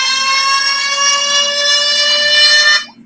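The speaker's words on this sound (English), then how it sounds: "there's your warning siren" A loud, steady warning siren blares in one sustained tone for nearly three seconds, then cuts off abruptly.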